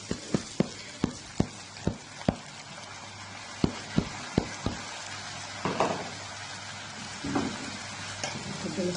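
Rice tipped into a pot frying with pepper and vegetables, a soft steady sizzle broken by a run of sharp clinks and scrapes of stirring, heard close and fairly quiet.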